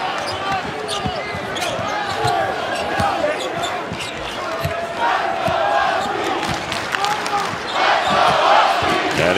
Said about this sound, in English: The UConn fans making some noise.